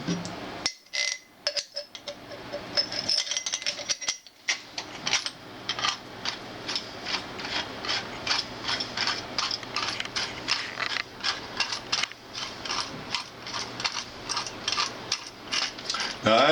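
A nylock nut being screwed onto a threaded spigot and tightened with a spanner on a bench drill press table, a run of quick metallic clicks and ratcheting ticks, close and fairly quiet.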